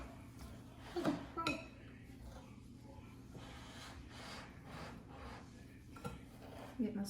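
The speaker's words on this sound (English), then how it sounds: "Now we're gonna stir it up." Sugar and strawberries are stirred together for freezer jam, making soft scraping and occasional light clinks of a utensil against a bowl, faint and intermittent, with a little quiet talk in the background.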